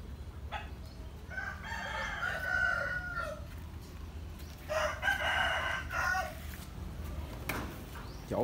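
Two long crows from a rooster sound at moderate distance, one at a time, against quiet outdoor background noise at a rural home during the Tet season.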